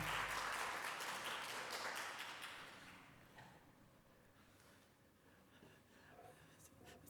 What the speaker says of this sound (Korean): 우리 나오실 때 뜨겁게 환영합니다 하는 마음으로 우리 박수해 주시기 바랍니다